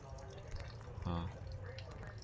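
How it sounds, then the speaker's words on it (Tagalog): Water runs continuously into a tank of tilapia fingerlings, a faint trickling and dripping heard under a brief voice in the background. "Continuous lang yung tubig na yan dyan."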